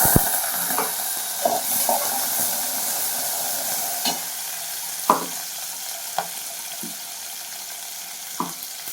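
Onions sizzle and hiss in hot oil for a bottle gourd koottu, a soft steady frying bed punctuated by occasional sharp stirring clicks and pan knocks, close and unaccompanied by speech.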